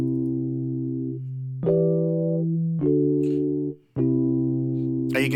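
Lounge Lizard electric piano plugin sounds sustained chords in an Afrobeat track, four held chord stabs in a row with short gaps between them, close and clear with no talking.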